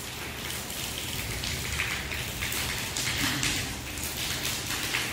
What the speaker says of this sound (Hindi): चौक में चमक रही है बारिश पड़ती हुई।